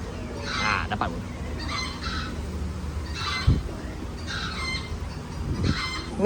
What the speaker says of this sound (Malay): Oh, ni itik.